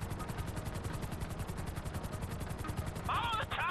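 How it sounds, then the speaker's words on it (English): Helicopter rotor and bursts of gunfire in the video game GTA 5: a rapid, even rotor chop runs throughout at moderate level, with a short sharp burst of shots near the end. "Follow the chopper."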